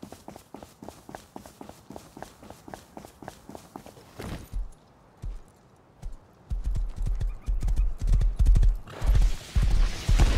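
Horse hooves clip-clopping at a steady run in the survival game Rust, a quick even rhythm of close hoofbeats that breaks off, followed by heavier, louder thuds and bursts of commotion.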